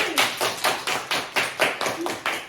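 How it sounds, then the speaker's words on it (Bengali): A family claps hands at home in a quick, even run of about ten sharp, close claps over a couple of seconds. "সবাই আকর্ষণীয় পুরস্কার সবাই হাততালি।"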